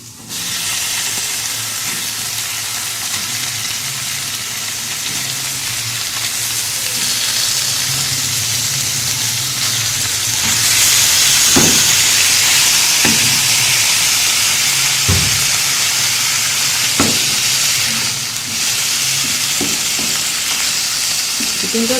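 Chicken pieces frying in a pan with garlic-ginger paste for a chicken capsicum curry, a steady loud sizzle and hiss with occasional stirring scrapes and knocks, no talking.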